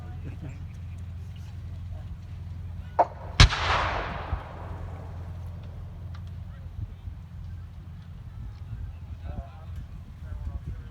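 An artillery barrage at a Normandy 1944 battle reenactment: a smaller pop, then one sharp, loud blast that rolls off into a long fading rumble, over a steady low hum and distant murmur.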